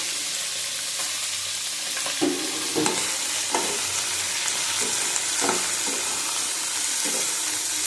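About a hundred grams of shrimp fry with spices in a hot pan, giving a loud, constant sizzle with intermittent scraping stirs, heard up close and alone.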